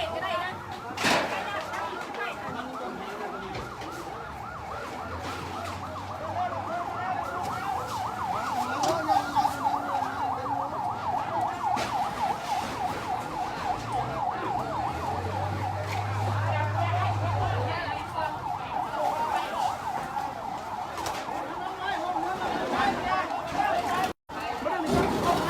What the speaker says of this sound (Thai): รถดับเพลิงกำลังมานะเจ้า